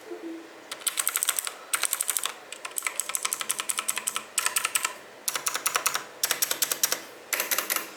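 Clicky GX Blue switches on a Logitech G Pro X keyboard rattle in rapid typing bursts separated by short pauses, crisp and close with no voice.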